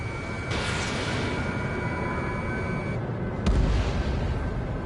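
Bombing explosions in the Ace Combat 7 video game: a broad, continuous roar of blasts and jet noise, with a heavier low boom landing near the end and no talk.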